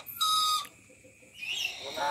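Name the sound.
Aru lory parrot (Nuri Aru) from Papua calling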